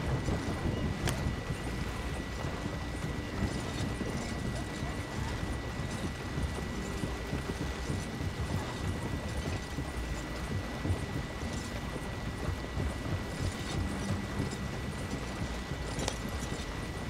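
Horse hooves clip-clop steadily while riding in the Red Dead Redemption 2 video game, a continuous close rhythmic gait over a low ambient bed with no talk.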